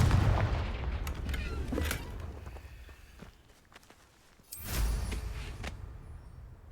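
Two heavy, booming blasts from a Confringo fire spell in a Harry Potter video game, the first fading through a rumbling tail and the second bursting out loud after a quieter gap.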